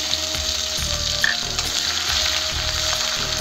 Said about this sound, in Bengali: পেস্টটা ভালো করে লাল লাল করে ভেজে নেব।